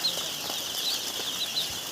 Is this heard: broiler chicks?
yes